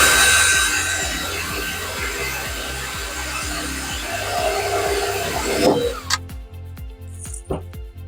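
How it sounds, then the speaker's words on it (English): A power drill with a blunt 10mm bit whirs loudly and grinds steadily through wood, then stops, followed by a few light knocks and handling sounds. "10mm drill bit's a little bit on the blunt side."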